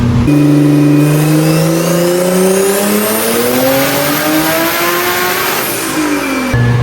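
A tuned Audi car engine with a Haltech ECU revs up hard and holds a high, rising whine for several seconds before dropping back, loud and close.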